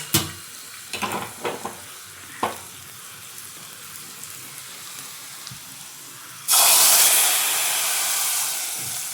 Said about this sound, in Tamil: இப்போ எடுத்து நம்ம வந்து சாம்பாரில் ஊற்றிடலாம்